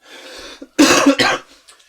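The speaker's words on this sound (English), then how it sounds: "He says coughing up a lot." A man coughs hard twice in close succession, loud and near, preceded by a softer breathy clearing, with no speech over it.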